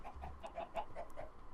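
Chickens cluck in Minecraft, a series of short, rhythmic blocky clucks repeating evenly at moderate volume, alone without talk.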